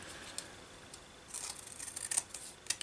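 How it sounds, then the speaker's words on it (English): Scissors trimming the bottom edge of a decorated recycled packet, giving soft snipping and rustling close by, with a few sharper cuts near the end and no talking. "Now I'm going to just trim this little bit of the bottom area"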